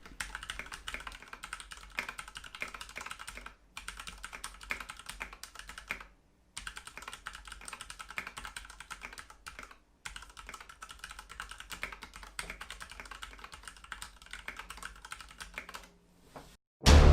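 Steady bursts of typing on a white Ducky One2 Mini mechanical keyboard, dense close clacking in runs separated by a few short pauses, with no talking over it.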